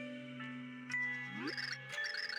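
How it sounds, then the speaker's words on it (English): Bright chiming wedding bell tones from the video game Super Paper Mario ring out in a short melodic jingle, with a rising slide partway through and a low sustained drone underneath. "Bells. Wedding bells. I hear bells."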